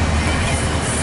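A train rolls slowly past on railroad tracks, a loud, close, steady rumble and roar filling the short span without talk.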